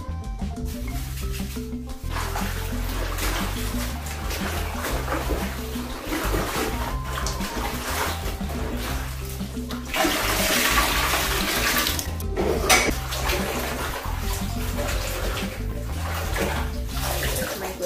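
Running tap water pours steadily over food being washed with salt for a Ghanaian abom stew, with splashing and sloshing in a basin and shifting surges throughout, heard close up.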